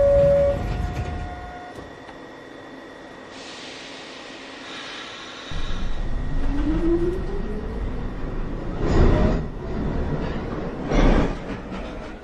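An uptown NYC subway 1 train at a station: a low hum and steady tones first, then a rumble builds as the train moves. A rising motor whine and heavier surges of rail noise follow, loud and close.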